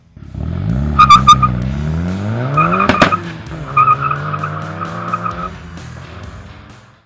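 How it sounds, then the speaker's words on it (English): A turbocharged 2005 Suzuki Esteem rally car revs and accelerates hard, its engine note climbing in pitch while tires squeal loudly in several sharp bursts, close and prominent throughout. "So this here is a 2005 model Suzuki Esteem. This car belongs to a rally driver."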